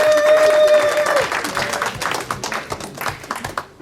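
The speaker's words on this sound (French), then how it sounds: "Applaudissons." Dense applause from a church congregation at a fellowship gathering led by a founding pastor couple, loud at first and gradually thinning as a brief sustained tone fades early on.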